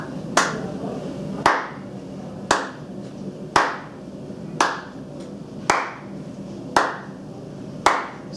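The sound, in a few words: hand clapping in rhythm with rebounder bounces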